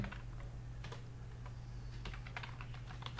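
Computer keyboard being typed on while writing PHP and script code, a close, quiet run of irregular key clicks over a low steady hum, with no voices.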